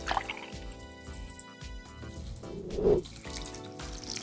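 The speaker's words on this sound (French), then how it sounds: "Et là on va rajouter du lait, un bon 20 centilitres." Milk pouring into liquid cream for a duck parmentier, a steady trickling liquid stream with a brief louder gurgling swell near the end, heard close and without talk.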